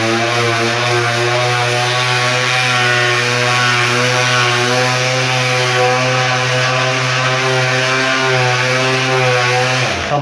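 A pneumatic sander works on car body filler during bodywork, a loud continuous high-pitched whine with a steady buzzing drone, close and unbroken for the whole stretch with no talking.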